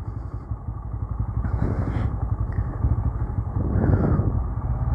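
A motorcycle rides off-road over rough ground, its engine droning steadily close by with rising bursts as it pulls in gear, and clattering over the bumpy terrain.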